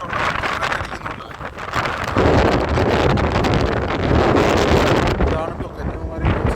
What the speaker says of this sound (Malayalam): ശക്തമായിട്ടുള്ള കാറ്റടിക്കുന്നുണ്ട്.